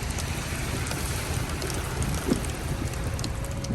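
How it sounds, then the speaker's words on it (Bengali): Heavy rain pours steadily in a dense, unbroken roar, loud and close, with no voices, heard while driving near Heathrow Airport. "প্রচুর প্রচুর বৃষ্টি"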